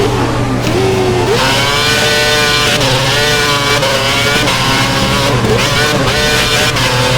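Formula One race car engines scream through a 2011 Australian Grand Prix in a video game, a loud, continuous high-pitched whine rising and falling with gear changes and revs.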